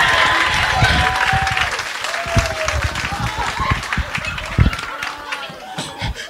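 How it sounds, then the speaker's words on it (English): An audience at a comedy show on a New York soul radio program applauds and cheers steadily, with a voice talking loudly over the clapping. "Applause for that move, y'all."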